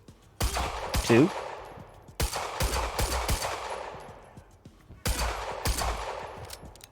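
Loud 9mm pistol shots in the Quantum Break game, several sharp reports in clusters with ringing tails that trail into echoing decay, a brief voice heard between them.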